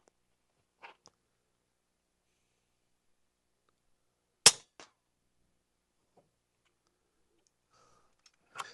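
An FX Impact MK3 .35 airgun fires at steel gongs. Two sharp, sudden cracks stand out against near silence, each followed by a faint tick, with quieter clicks earlier and at the end.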